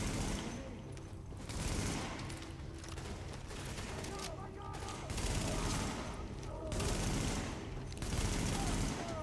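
Sustained automatic gunfire in Tom Clancy's The Division, dense rattling bursts with short pauses between them, fairly quiet in the mix with voices talking over it.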